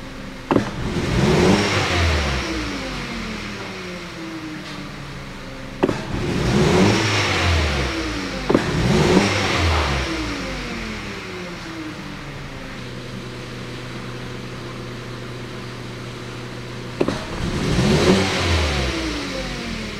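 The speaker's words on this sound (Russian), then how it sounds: "Резко даю газу. Провал." A 2012 Hyundai Solaris with a rough-running engine and rich mixture suspected of a dead cylinder is revved sharply several times; each surge rises and then falls back over a steady uneven idle, with no talk.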